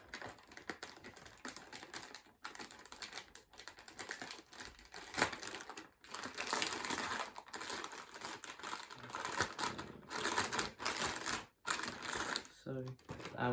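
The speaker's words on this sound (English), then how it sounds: "got a bit of tape we have to peel off" Tape is peeled off the clear plastic packaging around an ASUS TUF RTX 3060 Ti graphics card, giving faint crinkling and crackling with sharp ticks and scratchy rips, close to the mic, while someone talks over it.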